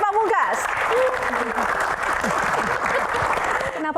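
A studio audience applauds for a steady stretch, dense clapping filling the room while a host speaks over it.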